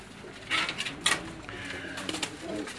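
Pigeons coo softly outdoors in the sun in Bahria Town Phase 8, Islamabad, a few low murmuring calls rising and fading over light background noise.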